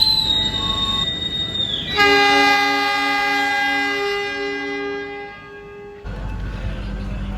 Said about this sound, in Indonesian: Persiapan berangkat kereta api Mutiara Selatan dari stasiun Mojokerto